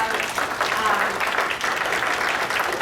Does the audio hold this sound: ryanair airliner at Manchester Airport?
no